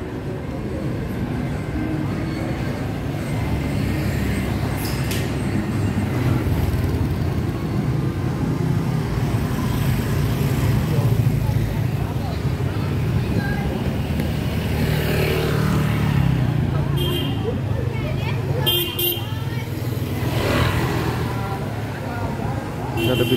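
On Bui Vien Walking Street in Ho Chi Minh City, Vietnam, a steady roar of motorbike traffic and crowd noise fills the busy street. People talk nearby throughout.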